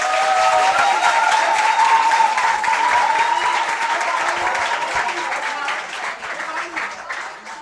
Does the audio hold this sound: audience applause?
yes